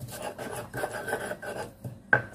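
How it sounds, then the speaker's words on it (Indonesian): Garlic and salt crushed in a mortar with a pestle, a steady run of gritty rasping and rubbing strokes close by, ending with a sharp knock of stone. "Haluskan dulu bawang putih dan garamnya."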